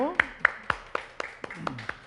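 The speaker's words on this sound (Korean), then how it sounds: "우리 박수로 일단 하나님께 영광 돌릴게요" Congregation clapping together during a Christmas worship service in a church, a steady series of about nine sharp, evenly spaced claps heard close and loud, with a voice speaking over the start.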